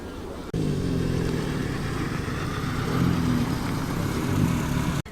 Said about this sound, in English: Driving in now, a 1965 Austin A60 Cambridge.